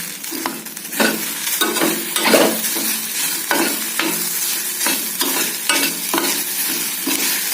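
Okra (ladies' finger) with turmeric and salt fries in a pan while being stirred, giving a bright, close sizzle broken by repeated rhythmic scrapes and clacks of the spoon roughly every half second, with no one talking.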